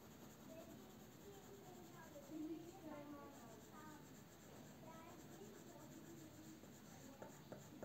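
A pencil shades a cylinder drawing on paper, giving soft scratchy strokes that come in short bursts and stay close and quiet while a person talks over them.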